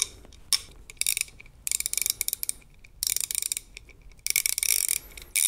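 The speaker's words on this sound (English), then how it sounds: "here's a standard quarter inch ratchet" A Performance Tool W36180 quarter-inch drive long handle ratchet clicks in rapid bursts, several quick runs of sharp close ticks separated by short pauses, with no talk.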